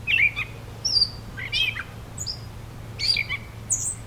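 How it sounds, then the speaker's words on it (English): A gray catbird sings in a swamp on a summer morning, several short scratchy warbled phrases separated by pauses, fairly close over a low steady hum. "So catbirds are mimics."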